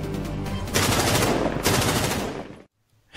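Bursts of full-automatic gunfire, a loud continuous rattle of rapid shots with two surges of intensity, ending abruptly in silence before a brief final burst.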